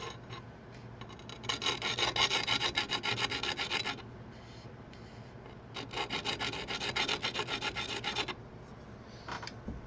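Rasping, scraping strokes of a tiny file or stone sharpening the end of a Hamilton watch fourth wheel pivot, coming in two long steady bursts of rapid back-and-forth rubbing with a short pause between and a brief tail at the end.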